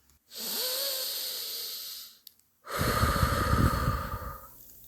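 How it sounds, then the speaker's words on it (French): A woman draws one long, deep breath in, pauses briefly, then lets out a long, heavy exhale. Both are close, airy and loud against a quiet background. "prend une grande respiration et tombe en transe"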